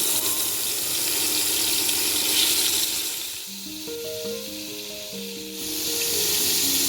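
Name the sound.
stingray fish pieces frying in hot oil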